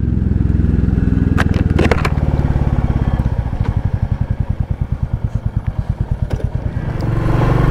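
A Royal Enfield Bullet 350 motorcycle engine runs close by, its rapid rhythmic putter steady and loud, with a few sharp clicks and clatters early on.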